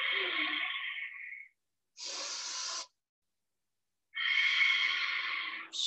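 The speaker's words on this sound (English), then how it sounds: "Strong breathing." Strong, forceful breaths during an Ashtanga-style breathing exercise: three loud, hissing exhalations of one to two seconds each, separated by silent pauses, heard close and alone.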